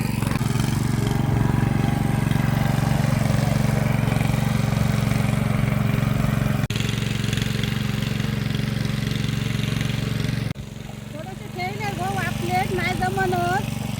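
A loud, steady tractor engine drones and chugs nearby throughout while ploughing a field, with a voice talking over it toward the end.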